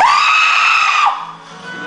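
A video game character lets out a loud, sustained high-pitched scream lasting about a second, then it breaks off into a quieter, lower tail.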